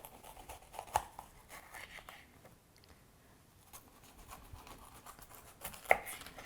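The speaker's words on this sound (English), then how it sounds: "I'm going to take my quarter piece and I'm going to cut it into strips" A kitchen knife cuts a quartered bell pepper into strips on a board. The cuts land as a few sparse, soft chops, with one sharper strike near the start and another near the end. No one speaks.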